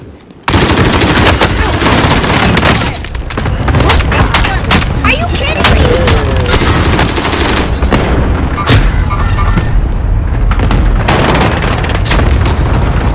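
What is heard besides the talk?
cluster strike explosions in a video game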